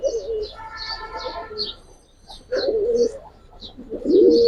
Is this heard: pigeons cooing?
yes